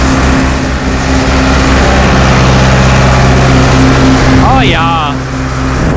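White 2-135 tractor engine idling while hauling silage, a loud steady low-pitched drone with constant harmonic hum, close up, with a brief spoken remark near the end.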